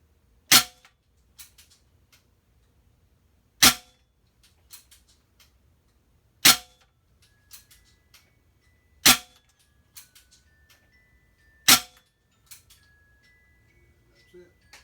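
Indoor shooting with Notos and P-rod air rifles: five sharp, sparse shots spaced a few seconds apart, each followed by faint clicks and handling noise in a quiet room.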